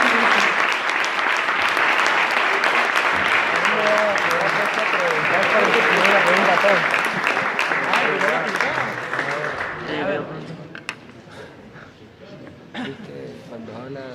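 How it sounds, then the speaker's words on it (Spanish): A lecture audience applauds a priest after his theology talk, a loud, dense burst of clapping that holds steady for about ten seconds, then thins to scattered claps and murmuring voices. "Despedimos al Padre con un fuerte aplauso."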